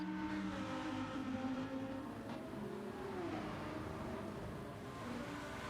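A race car engine drones steadily as the car leaves the pits in a racing video game, with a smooth hum whose pitch rises and shifts as it accelerates, continuous and fairly close.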